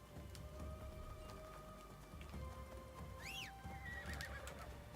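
A horse in the video game Assassin's Creed Shadows lets out a rising, wavering neigh near the end, with soft hoof clops and a patter of rain underneath, all fairly quiet.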